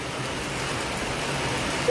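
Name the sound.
heavy rain with wind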